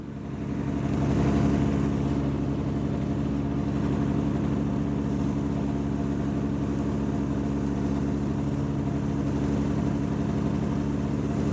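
A powered parachute engine runs at full throttle for takeoff, a loud steady droning buzz with a brief swell near the start, then holding an even, strong tone throughout with no voices.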